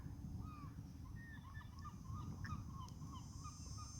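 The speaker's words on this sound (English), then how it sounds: "You can probably hear the seagulls." Distant seagulls calling repeatedly at the seaside on a hot, sunny day, thin cries rising over a low rumbling background, faint and scattered throughout.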